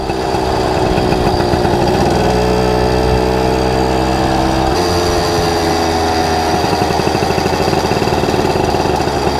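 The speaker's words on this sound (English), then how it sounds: "Gotta love that sound. I love the sound of a two-stroke." A 1974 Kawasaki MT-1B two-stroke minibike engine runs loud and close, with a buzzy, rattling idle whose pitch shifts a couple of times as the throttle changes.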